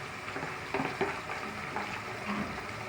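Ginger garlic paste hits hot oil in a pan and fries with a steady, soft sizzle, broken by a few brief louder spatters and stirring scrapes, with no talking.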